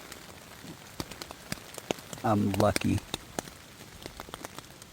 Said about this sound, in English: I just got my tarp set up and it started raining.